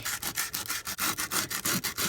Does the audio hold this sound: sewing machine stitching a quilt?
no